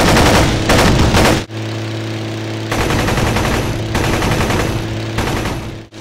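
Rapid, sustained bursts of Bf 109 fighter machine gun fire, from 7.9mm machine guns and a 20mm cannon, rattle loudly over a steady engine drone, pausing briefly before the firing resumes.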